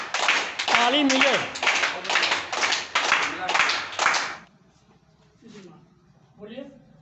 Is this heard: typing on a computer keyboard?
no